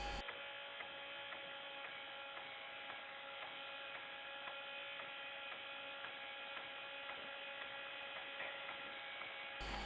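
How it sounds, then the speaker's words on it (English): An electric motor turns a pulley through a rubber belt, running in neutral as a faint, perfectly steady electrical hum with a fine buzzing overtone that never changes for the whole stretch. "We will allow the motor to run in neutral."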